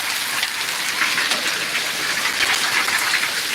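Heavy rain mixed with hail batters the ground in a Punjabi village in February, a loud unbroken wash of dense drops and pattering, close by with no voices.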